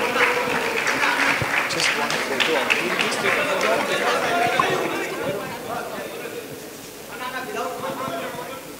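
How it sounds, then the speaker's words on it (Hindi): A crowd at a product launch event applauds amid lively chatter and shouting voices, a dense clatter of clapping mixed with overlapping talk that thins out briefly before picking up again. "जोरदार तालियां।"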